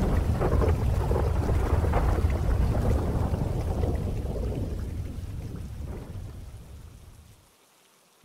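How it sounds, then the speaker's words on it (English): Heavy rain roars loud and steady with low rumbling thunder underneath, then gradually thins and fades away toward silence near the end. "Sorry about the rain, guys"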